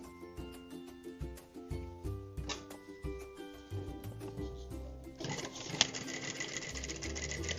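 A sewing machine stitches over a seam on a garment, with a close, rhythmic mechanical chatter that speeds up into a steady buzzing run near the end.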